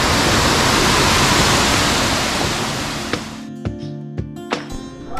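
Roaring broadband rush of Osambak waterfall in Marilog District, Mindanao, loud and steady at first, then cut off into quieter surroundings with a few sharp knocks and clicks near the end.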